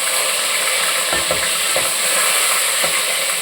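Curry leaves crackle and sizzle loudly in hot oil, a dense continuous hiss broken by a few sharp pops and stirring clicks.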